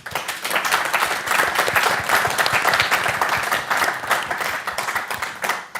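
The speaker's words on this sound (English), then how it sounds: "Can we give him a round of applause, please?" A conference audience at a data debate event gives sustained, steady applause, a dense wash of many hands clapping close by for nearly six seconds with no speech over it.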